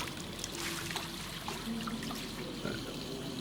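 Water runs steadily from a tap in Syberia The World Before, a continuous close trickle and splash with a faint tonal hum underneath.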